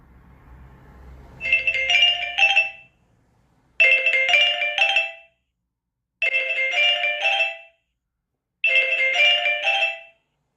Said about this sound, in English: my phone's going. That's a work call